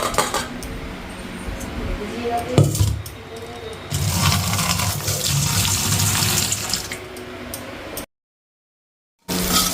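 Tap water runs into a sink while okra is set to soak, a loud steady gush with clinks of utensils and dishes, cutting off briefly near the end before resuming.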